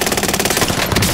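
Rapid automatic gunfire in Call of Duty Warzone on the Caldera map, a loud continuous burst of closely spaced shots rattling for about a second.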